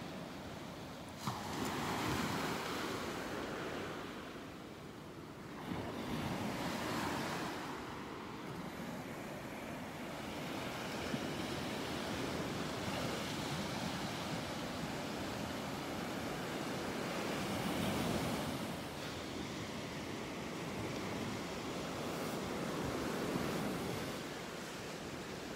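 Surf washes onto a beach in Naples, Florida, a steady, soft roar of rolling waves with gentle swells and some wind, no voices.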